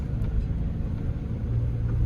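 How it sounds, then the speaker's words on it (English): Inside a moving car, a steady low rumble of road noise fills the cabin, constant and fairly loud with no voices or other sounds on top. "there is a little bit more road noise"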